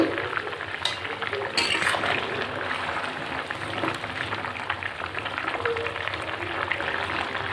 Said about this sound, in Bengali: ঝোলটা ভালো করে ফুটিয়ে নেব। এবার আমি মাছগুলো দিয়ে দেবো।